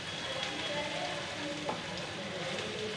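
Ginger garlic paste fries for chow mein in a steady, close sizzle that crackles evenly throughout, with one faint clink partway through.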